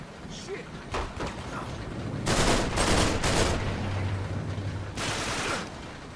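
A minigun firing in Uncharted 3 aboard a cruise ship, with long sustained bursts of rapid fire, one pause and a shorter final burst, while someone talks over it.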